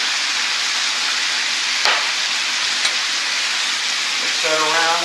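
Venison sears in a hot pan, a loud, continuous sizzle and crackle that holds steady throughout, broken by a few sharp ticks, with a faint voice near the end.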